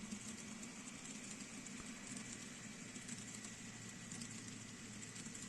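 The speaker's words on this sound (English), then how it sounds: "So let's take a look at it as a train goes through." A model crude oil tank train pulled by two SD70ACE locomotives rolls through a layout, a faint steady rumble with soft rail clicking and motor hum, with no talking.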